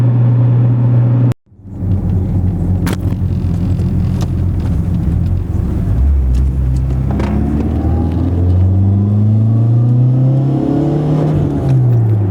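A highly modified 2014 Mitsubishi Evo GSR built by AMS is driven on the road, heard from inside as a loud, steady engine drone that climbs in pitch through several accelerations, with a brief drop near the start.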